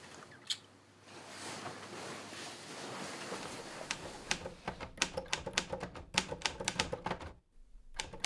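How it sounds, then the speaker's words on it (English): Typewriter keys clack in quick irregular bursts, close and crisp, growing denser toward the end after a quieter stretch of background hiss. "What are you typing?"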